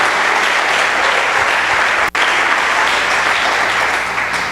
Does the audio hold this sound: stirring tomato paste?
no